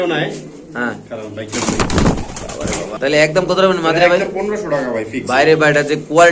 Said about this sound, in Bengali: এখানে আছে একটা সাদা স্প্যানিশ মাদি কবুতর